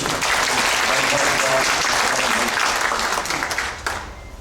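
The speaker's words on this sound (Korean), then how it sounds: "장관님께 다시 한번 큰 박수 부탁드립니다" Loud, dense applause from a large lecture audience welcoming a minister fills the space, holding steady before tapering off near the end.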